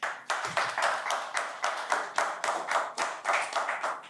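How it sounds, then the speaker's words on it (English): A few people clap in distinct, rhythmic bursts, close and fairly loud, with no one talking over it. "Let's give him a round of applause."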